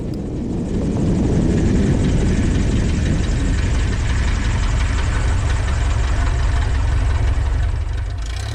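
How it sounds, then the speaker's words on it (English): A Carbon Cub light aircraft lands on a farm strip, its engine droning loud and close with a steady, slightly throbbing roar that eases slightly toward the end. "A friend of mine has a farm strip that I land at quite a bit and kind of pull back into a not so great three-point"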